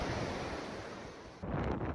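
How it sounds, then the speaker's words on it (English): Heavy surf from Hurricane Nicole on the Florida coast, with 10 to 12-foot waves breaking near a seawall, makes a continuous loud roar mixed with wind buffeting, swelling again after a short lull. "10 to 12-foot breaking waves, and significant rip currents"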